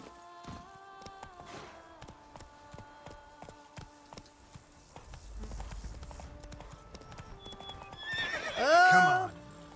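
Roach, the horse in The Witcher 3: Blood and Wine, walks with steady clip-clopping hooves amid game ambience, then gives a loud, close whinny near the end.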